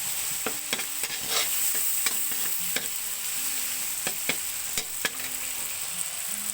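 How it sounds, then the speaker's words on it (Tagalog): Garlic, onion and tomato sautéed in a pan, a steady bright sizzle with many sharp spatula taps and scrapes and a few ringing metallic clinks, close and continuous with no talk. "ginisa ko na yung bawang, sibuyas at kamatis"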